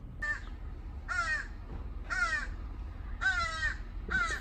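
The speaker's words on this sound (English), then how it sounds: "I have a murder of crows hanging out in front of the store" A murder of crows outside a general store gives five loud, harsh caws, evenly spaced about a second apart, over a low steady outdoor rumble.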